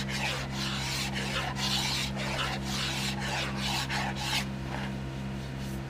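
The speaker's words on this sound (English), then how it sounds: "You need the good carbide scrapers, but it just comes off in long, easy, clean strokes." A carbide scraper rasps old finish off a wooden boat hull in a steady run of long, even strokes, close and fairly loud, with a low constant hum beneath and no talking.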